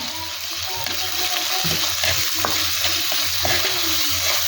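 Crushed ginger and garlic frying with shallots in hot oil for a Kerala milkfish curry, a steady close sizzle with stirring scrapes throughout, no talking.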